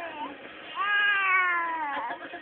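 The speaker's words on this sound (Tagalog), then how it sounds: "Parang pusa." A pet cat gives one drawn-out, close meow that rises and then slowly falls, over faint background sound.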